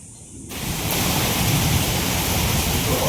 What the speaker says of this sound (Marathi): पाऊस चांगला सुरू झाला आहे.